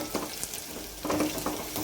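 Onion and slit green chilies sauté in hot tempering oil for a moong dal varan, giving a steady close sizzle with light stirring scrapes that swell in the second half.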